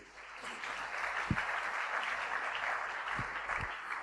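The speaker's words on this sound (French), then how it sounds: "Acclamons la parole du Seigneur" A church congregation applauds steadily and close, a dense crackle of clapping that fills the whole stretch with a few louder claps standing out.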